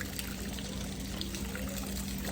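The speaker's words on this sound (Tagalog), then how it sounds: "Pag malakas ang tubig dito, ulan, umaapaw yung tubig dito." Rainwater overflowing and trickling during a tropical storm, a steady continuous wash of running water close by with a low rushing undertone and no pauses.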